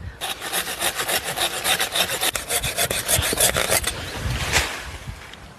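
A hand saw rasps through a mango tree trunk in quick, even back-and-forth strokes, close and loud, then stops and a final scrape follows.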